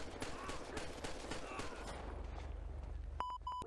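Gunfire in GTA 5 with the LSPDFR police mod, a burst of overlapping shots and crackle over low rumble during a sheriff's standoff, ending with a few sharp beeping tones.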